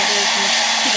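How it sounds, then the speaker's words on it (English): A hair dryer blows steadily while drying alcohol ink on a dark silver tumbler, a continuous close whoosh with a faint hum, and someone speaks briefly underneath. "I'm gonna hit this for hair dryer because I like it"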